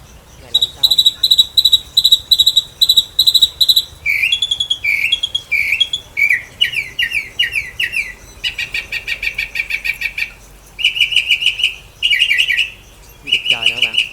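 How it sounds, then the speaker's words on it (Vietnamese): Myna birds at a wild bird market in Thạnh Hoá, Long An, call loudly and close by in repeated bursts: shrill whistles, rapid chattering trills and sharp squeaks follow one another for the whole stretch. "Này là con sáo."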